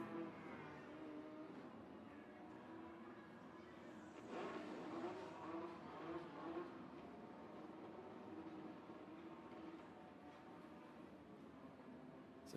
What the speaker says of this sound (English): You hear the Chargers making their way up.